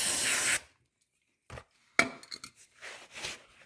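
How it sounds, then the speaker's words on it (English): A short, loud hiss of brake cleaner sprayed onto the oil drain plug of a 2001 Arctic Cat 400 ATV, followed by quiet clinks and rubbing of metal. "I'm just going to spray it with brake cleaner"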